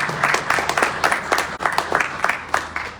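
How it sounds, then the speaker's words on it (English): A town hall audience at a January 2023 Idaho legislator meeting breaks into applause, a brisk run of close, uneven hand claps sustained for a few seconds. "Let's give her a round of applause."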